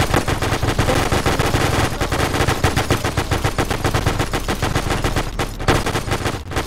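Rapid automatic gunfire close to a bunker in the WWII mod Iron Front for ArmA 3, with a PPSh and a ZiS in use. Dense, loud bursts of machine-gun fire run continuously, with no talk.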